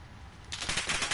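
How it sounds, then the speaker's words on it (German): Automatic gunfire in the video game Call of Duty Modern Warfare, a rapid burst of shots that starts partway through and keeps rattling loudly after a quieter lead-in. "Ich habe einfach mal so in die Richtung geschossen, wo die Schüsse hergekommen sind"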